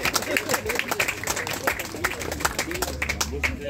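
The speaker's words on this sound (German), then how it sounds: "das ist auch ein kleiner Applaus wert" Scattered clapping from an outdoor election-rally crowd, uneven bursts of claps over a murmur of voices and movement, moderately loud and fairly brief, with no single voice standing out.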